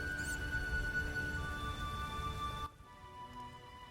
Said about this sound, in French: J'en ai assez de cette pluie.